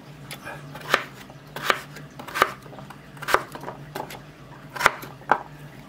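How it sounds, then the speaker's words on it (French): Potatoes are sliced into small pieces with a knife for nettle soup, giving about eight sharp chopping taps against a board at an uneven pace, close and clear, with no talk. "je vais émincer mes pommes de terre, faire des petits morceaux"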